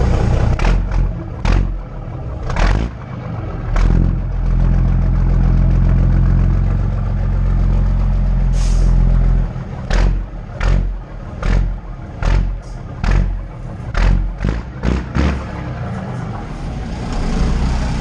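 A Mack B61 truck engine runs loud and close, a deep idling rumble broken by a series of sharp revs, with a long sustained roar mid-clip and then rapid repeated blips of the throttle.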